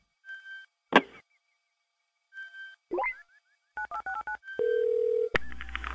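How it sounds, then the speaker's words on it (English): Dialing tones from a random phone dialer: a sequence of short DTMF-style beeps and electronic blips with a sweeping tone, ending in a steady dial-type tone and a rising connection sound, clear and close with no talk. "Let's go to the random phone dialer and make some calls."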